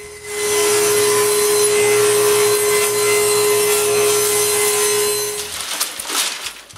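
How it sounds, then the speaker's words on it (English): A table saw cuts grooves in wood, a loud, steady whining rip with a sustained tone for several seconds before the blade spins down. "Then I rip all the tongues on the table saw."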